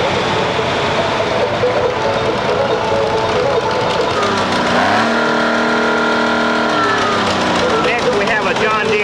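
Restored 4000 diesel tractor rolling past in an antique power parade, a loud steady engine drone with a rising, revving pitch sweep midway, amid outdoor crowd noise and talk.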